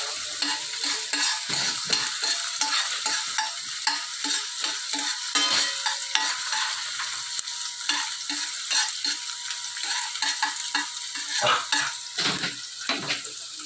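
Garlic and onion sautéing in a pan while being stirred, with a continuous hiss of frying under repeated rapid scraping and clattering of the utensil, loud and close throughout.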